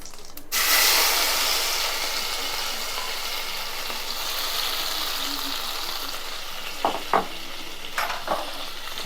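Cumin, asafoetida and a ground spice paste hit hot oil over a wood-fired chulha for a Maharashtrian masvadi rassa, bursting into a loud, close sizzle that holds steady, with a few scraping stirs near the end.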